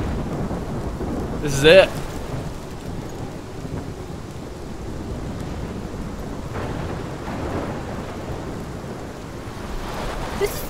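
Thunderstorm with steady rain from the video game Life is Strange, a continuous rushing wash with one brief louder thunder crack near the start; a voice speaks briefly over it.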